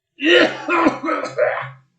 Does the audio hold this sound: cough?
yes